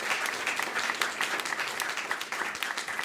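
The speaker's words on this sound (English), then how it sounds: "So let's have a big round of applause." An audience at a church service breaks into steady, full applause, a dense, even wash of many hands clapping close by for the whole stretch with no talking.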